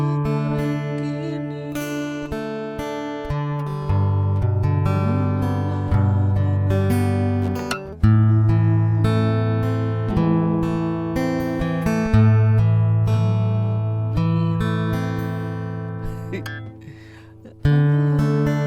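A guitar runs through a Cowboy equalizer, tuner and preamp, playing plucked notes and ringing chords with a warm, full low end at a steady, close level, with no talking over it.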